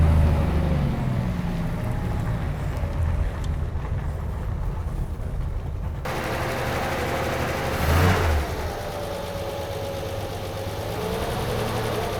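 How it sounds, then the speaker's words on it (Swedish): An old sports car left standing since 1978 has its engine turned over and running roughly, a continuous mid-pitched rumble with a brief surge partway through, heard close up with no talk. "Nu ska vi se om den andra sportbilen startar här."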